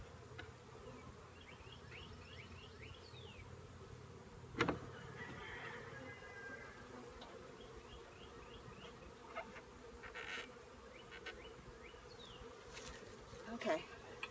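Honeybees buzz during the transfer of a nuc colony into a hive, a steady, close, continuous drone with a few brief knocks and clicks from handling.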